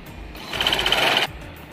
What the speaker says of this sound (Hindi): ये इस तरह ऊपर से सिलाई लगा लेंगे